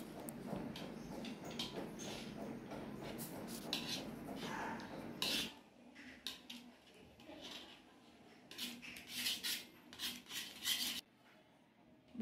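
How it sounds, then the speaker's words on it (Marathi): A spoon scrapes reducing milk around a kadhai while khoa is made at home, giving repeated rubbing strokes and soft metallic scraping that run steadily, then drop off before a few quieter bursts of scraping near the end. "असं चमच्या साह्याने मी कढईला व्यवस्थित पसरून घेते"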